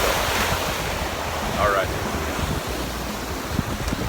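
Ocean waves and surf wash steadily at a beach sandbar, loud and close, with heavy wind buffeting the microphone and a voice speaking briefly near the end.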